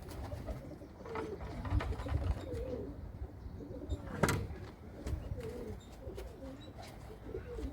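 Pigeons coo softly in repeated rolling phrases, with a sharp knock partway through and faint voices in the background.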